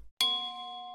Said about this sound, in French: le pied de micro Blue Yeti qui fait une sorte de petit marimba